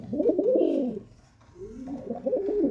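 Pigeons coo near and clear in two soft, rolling phrases separated by a brief pause, with no talk over them.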